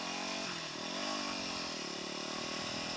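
A Yamaha WR250X motorcycle engine hums steadily while riding, with the throttle rising and easing in smooth pitch sweeps under constant wind and road noise.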